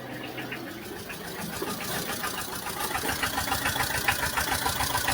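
A Tata Ace mini truck engine runs just after starting, a close, steady mechanical chatter with a rapid rhythmic knock that grows slightly louder, no voices over it.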